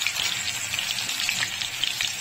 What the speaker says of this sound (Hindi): थोड़ा सा पानी डाल दिया इसमें।